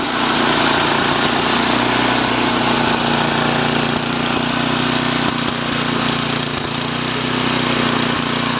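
An MTD 8 HP snowblower engine idles loudly and steadily up close, its rough drone gently rising and falling as it surges.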